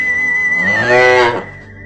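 A single humped desi cow moos once, close and loud, in a drawn-out low call that swells in the middle before trailing off.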